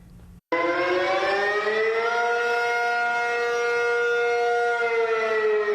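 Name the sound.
tsunami warning siren set off by mistake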